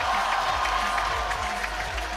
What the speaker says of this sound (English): He's got some support here in the crowd.